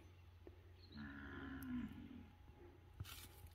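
A cow on a farm moos once in a low, drawn-out call, seemingly answering her calf, heard at moderate distance over faint outdoor background noise.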